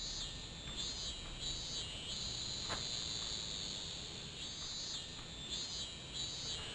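Cicadas in the video game Tenchu, a quiet, steady high-pitched buzzing drone that pulses in repeated swells over a soft background ambience, with no voices.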